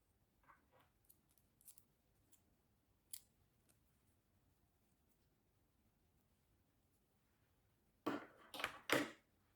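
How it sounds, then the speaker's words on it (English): Scissors snip through crochet yarn in a couple of quick, close, crisp cuts near the end, after a long quiet stretch with only faint handling noises. "I can cut my yarn and pull that through"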